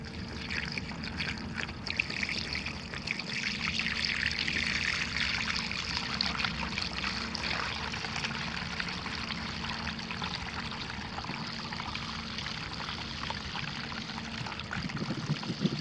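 Liquid pours and trickles into the tank of a Kobalt 24V MAX chemical sprayer, model KSP 1124A-03, a steady close splashing flow lasting throughout with no talking.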